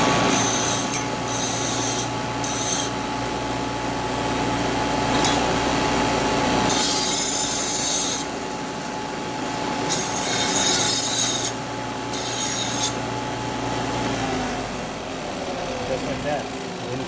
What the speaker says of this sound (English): I have a little belt sander here, and I'm going to clean up the outside edges.